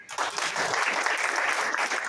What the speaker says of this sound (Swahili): Tupige tu makofi